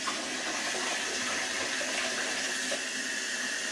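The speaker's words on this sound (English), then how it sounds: "I gotta run some water and get some hot water going" Hot water runs steadily from a kitchen tap while cookie dough is being prepared, a continuous broadband rushing hiss that stays even and close throughout, with no talking.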